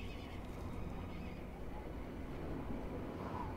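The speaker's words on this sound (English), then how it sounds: "Look at that horse with all the dots." A horse at the stables in The Elder Scrolls IV: Oblivion lets out a soft neigh, faint and low against a steady background hum.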